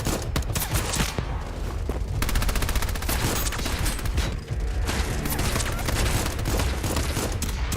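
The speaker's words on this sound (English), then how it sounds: "that is like an M40, like, rifle from Vietnam, for sure." Rifle gunfire in the video game Dawn of War 2: a loud, steady barrage of overlapping shots and volleys that continues with barely a pause.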